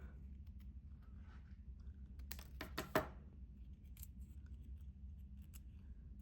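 Scissors cutting folded paper: a short cluster of crisp snips close by, over a quiet hum, followed by a few faint paper rustles.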